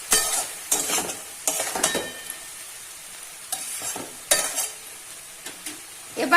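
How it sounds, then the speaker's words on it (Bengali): A spatula scrapes and stirs poppy seed, ridge gourd and potato frying in a pan, sharp irregular strokes every second or so over a soft oil sizzle, close and alone without speech. "পোস্ত, ঝিঙ্গে, আলু সমস্ত ভাজা ভাজা হয়ে গেছে।"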